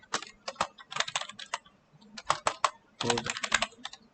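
Someone types a folder name on a computer keyboard in quick, uneven bursts of close, crisp key clicks, with short pauses between the runs and no voice over them.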